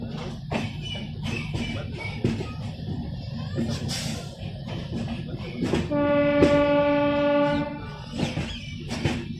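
Indian railway station with an ALCO diesel locomotive standing by, steady rumbling and clanking of rail cars, then a long loud horn blast in the middle before the rumble continues.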